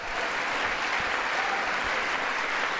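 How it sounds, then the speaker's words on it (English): Sustained applause from a large audience in the chamber of Congress during a presidential joint address, a steady dense roar of clapping filling the space without break. "So they're applauding him leaving the Human Rights Council at the United Nations."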